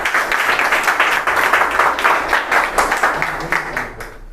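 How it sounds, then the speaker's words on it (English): An audience applauds a girl named Nupur Goyal at a public speaking championship in Hazaribagh, Jharkhand, steady sustained clapping from a crowd that fades toward the end, with a voice over it. "So please clap for our brave girl Nupur Goyal."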